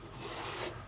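Steel wool rubs and scrapes across a wooden lamp coated with off-white paint and wax, a steady close rasping friction with no voices.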